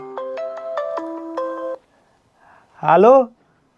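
A mobile phone plays a melodic ringtone of bright, stepped tones for about two seconds, then goes quiet before a short voice sounds.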